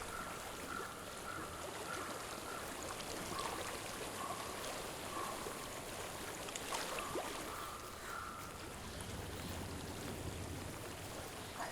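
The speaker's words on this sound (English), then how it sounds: "I hear water. Go to it." Steady flowing water in the video game Hellblade: Senua's Sacrifice, a continuous broadband rush like a stream, fairly faint and unbroken, with a thin high tone drifting in and out over it and no talk.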